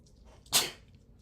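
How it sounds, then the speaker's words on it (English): A single close sneeze from a man hosting a sports talk show, erupting sharply and fading within a moment, heard alone with no talking around it. "I'm trying to hold back a sneeze right now."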